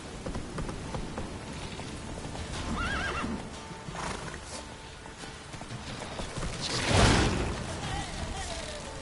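Roach the horse running in Witcher 3: Wild Hunt, steady clip-clop of hooves with a clear neigh partway through, over a patter like rain and some faint voice.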